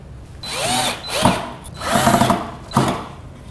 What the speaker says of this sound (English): This can also be done with a drill